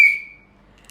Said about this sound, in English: She had a whistle around her neck and she would blow on it like this.